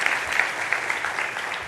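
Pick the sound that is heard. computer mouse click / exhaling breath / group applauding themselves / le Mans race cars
group applauding themselves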